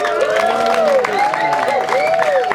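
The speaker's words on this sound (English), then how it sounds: "keep cheering" An Easter Sunday church congregation cheers and claps in a loud, continuous crowd roar, with raised voices and high vocal whoops rising over the din.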